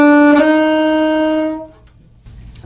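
A horn sustains a bright note with a small blip near its start where the tongue and fingers fall out of step. The note fades out and a quieter note follows after a short pause.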